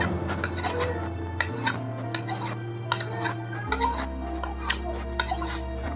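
A slaughtering golok, a steel blade about 4 mm thick and 3.5 cm at its widest, is honed with slow strokes, giving soft repeated scraping rubs with small metallic ticks over a steady low hum.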